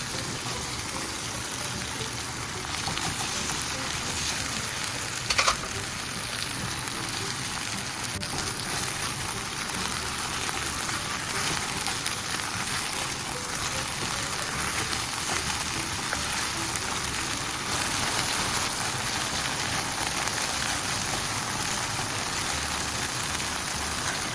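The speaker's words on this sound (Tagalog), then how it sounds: "Lagay natin yung chicken na minarinade natin kanina. I-sear muna po natin ito." Marinated chicken searing in hot oil in a pan for kung pao chicken, a dense, steady sizzle and crackle that holds evenly throughout with no talking.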